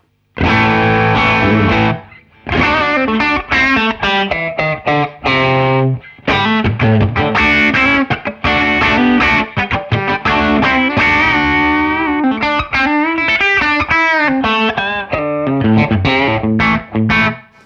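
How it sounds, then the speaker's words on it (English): Fender American Professional Classic electric guitar played through overdrive, loud and close with no talk: distorted strummed chords and single-note runs in bursts, with brief gaps between phrases. "let's try a little bit of drive now"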